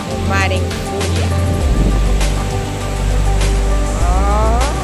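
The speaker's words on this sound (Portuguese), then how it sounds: "O mar em fúria." Stormy sea waves roar and crash onto the beach at Saquarema in a continuous, loud, wind-buffeted surge, with brief voices and whistling tones cutting through the noise.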